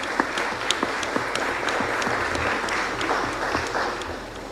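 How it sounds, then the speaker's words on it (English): Applause from the audience at a community impact meeting honoring Secretary Hackett, a steady roomful of clapping held at moderate level for several seconds, with a few sharper individual claps standing out. "Let's give him another round of applause."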